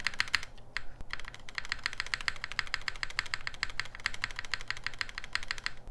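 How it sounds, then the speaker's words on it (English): Quick, steady clacking of the spacebar on an Element G67 mechanical keyboard with a stainless steel top and brass bottom, pressed again and again, crisp and close, with no voices. "This is how I expect the spacebar to sound."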